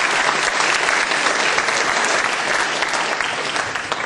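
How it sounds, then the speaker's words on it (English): Sustained applause from a large crowd, steady and loud throughout with dense clapping and no pauses. "Let's give them a round of applause."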